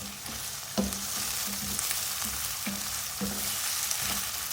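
Chopped tomatoes frying in a pan for a dhaba-style aloo matar curry: a steady close sizzle with soft scraping strokes from stirring about every half second, and no voices.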